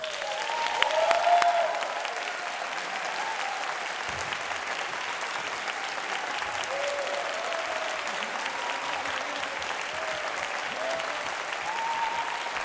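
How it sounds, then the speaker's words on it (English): Warm audience applause for three finalists at a harp competition award ceremony, steady sustained clapping in a hall with a brief cheer near the start, continuing at an even level throughout. "let me introduce you to the stage with the warmest applause that you can give them, our 3 finalists."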